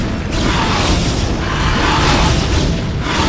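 A photon cannon being destroyed in StarCraft: Remastered, a loud sustained booming explosion with crashing debris, dense and continuous throughout.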